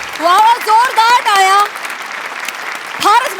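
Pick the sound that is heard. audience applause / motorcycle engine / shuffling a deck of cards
audience applause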